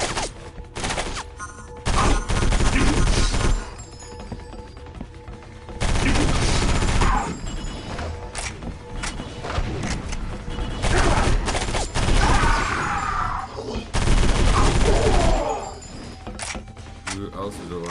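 Gunfire in the first-person shooter Area 51 on the console: loud bursts of automatic fire in several volleys, near and dense, with quieter stretches between, and a player's voice over parts.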